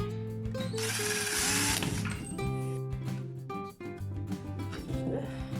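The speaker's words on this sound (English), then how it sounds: "Turn the screwdriver on." An electric screwdriver whirs in short, uneven bursts while driving screws for garden shelves, its motor pitch rising and falling close by, with a brief pause partway through.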